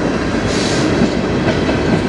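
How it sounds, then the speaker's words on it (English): Short CN freight train passing on the Strathroy Subdivision, a loud continuous rumble of rolling wagons with faint wheel clatter, close by and steady throughout. "Oh, we got a short train."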